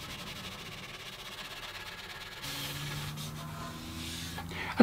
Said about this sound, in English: use a wide assortment of different sanding blocks to sand the binding nice and flush